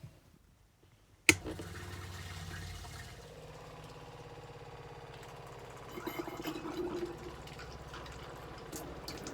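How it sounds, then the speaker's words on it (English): A caravan water pump switches on with a sharp click, then hums steadily as it draws sterilisation fluid from the onboard tank through the water system, with a louder, busier surge near the end. "And now it's time to switch the pump on."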